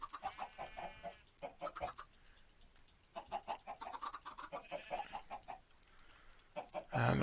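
Minecraft chickens clucking in quick, repeated bursts with short pauses, moderately close, ending in a louder rustle or thump.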